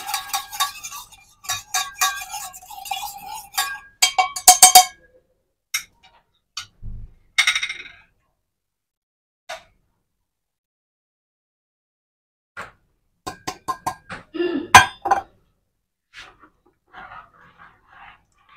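A spoon stirs baking soda into thin martabak batter in a bowl, giving soft clinks and scrapes in short irregular bursts separated by quiet pauses, close and fairly faint.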